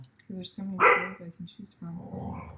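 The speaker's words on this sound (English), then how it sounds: "That's our dog Ernie, by the way." A pet dog named Ernie gives a short, sharp bark or two in a home, mixed in with someone talking nearby.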